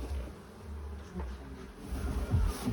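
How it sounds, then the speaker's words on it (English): Bees buzz faintly around high-level stacked beehives in a yard, a low continuous hum with a few louder passes close by. "High-level beehives."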